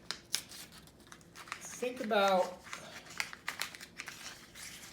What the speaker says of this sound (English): I've got some scissors, and I'm just going to cut along the line.